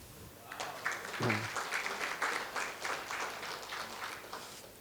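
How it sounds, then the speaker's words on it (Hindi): Audience applause at a business club conference, a steady patter of clapping across the hall with a brief voice cutting through early on, moderately loud throughout. "और भी दिल करे ताली तो बजाते रहिएगा"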